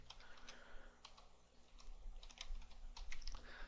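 Keystrokes on a computer keyboard typing a value into a rendering program, quiet irregular clicks in a steady run over a low hum, with no voices.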